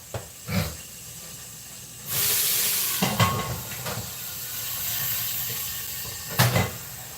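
Sausages browning in a hot pan give off a steady sizzling hiss across the whole stretch, swelling louder in bursts with a few sharper crackles and clatters, heard close with no talking.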